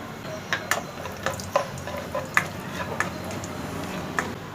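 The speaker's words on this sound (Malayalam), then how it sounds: "നമുക്ക് കാഷ്യൂസും റൈസൻസും വറുക്കാം" Cashews and raisins frying in ghee in a kitchen pan make a soft sizzle under repeated sharp scraping and clinking strokes of a spoon stirring them, close by and without talk.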